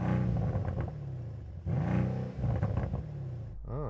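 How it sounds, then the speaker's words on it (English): A Mercedes-AMG C63 coupe's engine is revved hard in several blips, rising and falling in pitch, loud and close, ending with a quicker sharp rev against a limiter. "Let's have a listen to the C63 coupe."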